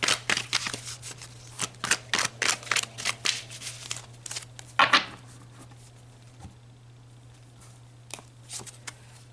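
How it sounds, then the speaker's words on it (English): Tarot cards shuffled by hand in quick, crisp riffling bursts for several seconds, then a lone louder snap and a few faint card sounds as cards are pulled in a quiet room. "Let's pull some more cards."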